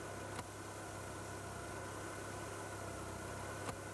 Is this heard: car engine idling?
yes